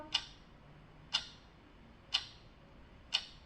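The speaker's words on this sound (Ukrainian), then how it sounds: "звуки годинника." A clock ticks steadily, four crisp clicks about one second apart, with a faint room hum underneath.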